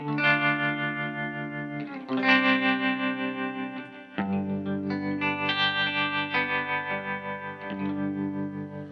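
An electric guitar plays sustained chords through a Walrus Fundamental tremolo pedal in sine mode with its volume boost on, the loud, pulsing wavering volume throbbing steadily as the chords change.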